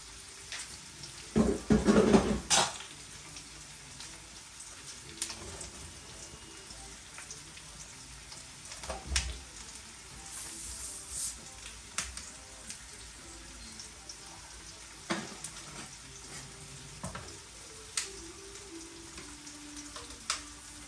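Pork hock for pata tim simmers with Sprite in a pot, giving a soft bubbling, sizzling hiss broken by a few clatters and brief voices in the background.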